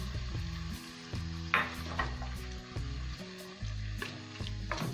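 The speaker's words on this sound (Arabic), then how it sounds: "نزيد الطوماطيش اللي قطعتها هكذا دي كاري" Diced tomatoes frying with chicken in a pan, a steady close sizzle broken by stirring scrapes and clinks, with no talking.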